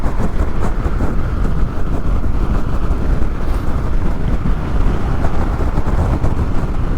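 Loud, continuous wind roar buffets the helmet while riding a Honda NC750XA motorcycle, with gusty side wind making a dense rushing noise throughout and no talking.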